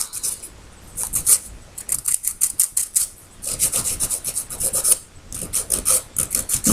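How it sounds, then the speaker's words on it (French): A hand nail file rasps across a fingernail to buff it before a gel and semi-permanent polish application, in repeated quick back-and-forth strokes, close and fairly loud, with short pauses between bursts and no talking. "Donc je vais limer."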